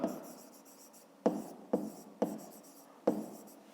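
Pen strokes scratching on paper, a steady soft scribble broken by four sharp taps as the pen lands anew, close and quiet with no talk.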